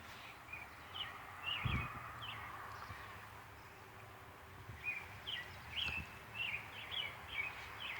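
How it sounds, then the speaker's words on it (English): Birds sing from tall trees beside a garden, giving short, bright chirps and trills in scattered bursts. The calls are moderately distant and fairly faint over a soft outdoor background, with no talking. "I'm hearing the birds."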